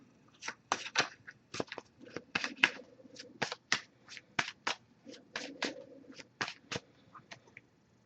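Rapid bursts of crisp riffles and snaps from a deck of tarot cards being shuffled, repeated in quick uneven succession, close and fairly quiet with no talking.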